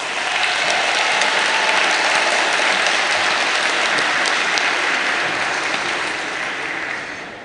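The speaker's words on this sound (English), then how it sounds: "Please give them a round of applause." Sustained applause from a large crowd at a high school graduation ceremony, a thick, continuous wash of clapping that holds steady for several seconds before easing slightly.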